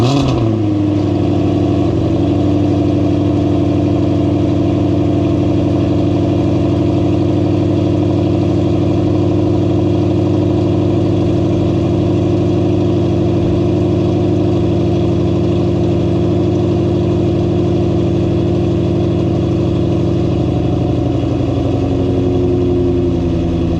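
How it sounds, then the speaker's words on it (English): A Ford Mustang GT500 cold-starts with a sharp catch, then settles into a loud, steady, rumbling idle that holds close and even for over twenty seconds with no talking. "So I did just start the car."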